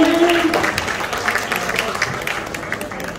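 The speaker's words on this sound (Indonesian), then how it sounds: "Tepuk tangannya." An audience claps at an MOU signing ceremony between the Sumatra Red Cross and Beacon Hospital. The applause is steady and sustained, with a voice speaking briefly over it at the start.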